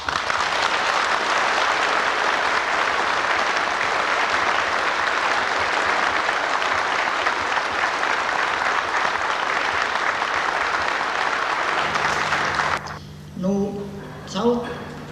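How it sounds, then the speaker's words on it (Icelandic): An audience at an anniversary gathering of a labour union applauds loudly and steadily for about twelve seconds, a dense even wash of clapping that stops abruptly, followed by a brief moment of speech. "klappa enn og aftur fyrir öllum þessum mönnum"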